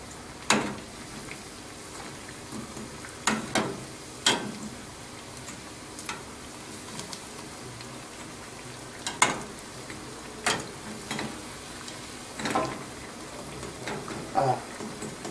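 Polenta and potato patties frying in hot ghee, a soft steady sizzle with scattered sharp pops and clicks of utensils at intervals, no speech.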